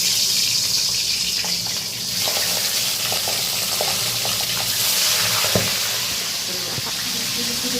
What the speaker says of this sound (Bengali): তেল গরম হয়ে গেছে, এই যে মাছটা ছেড়ে দিলাম।